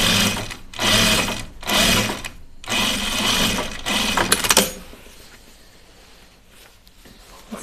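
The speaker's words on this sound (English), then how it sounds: "so let's stitch it a little bit more" An electric sewing machine stitching a backpack runs in several loud, close bursts of rapid stitching separated by short pauses, then falls to quieter handling noise.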